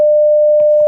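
A phone call's disconnect tone: one loud, steady electronic beep held unbroken at a single pitch for just under a second, with faint background murmur underneath.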